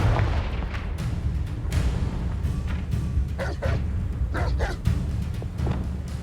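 A Confringo fire spell bursts in Hogwarts Legacy as a series of booming, muffled explosive blasts repeating over several seconds against a low rumbling background.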